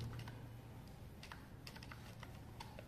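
Quiet computer keyboard typing of a fastboot command, a quick irregular run of light clicking keystrokes, close with no talk.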